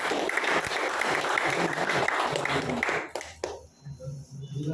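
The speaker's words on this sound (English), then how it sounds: "Mr. Yadram ji, please give a huge round of applause for Yadram ji." Dense applause from a crowd at a felicitation ceremony fills the first three seconds, then breaks off abruptly into a quieter room with faint low rumble.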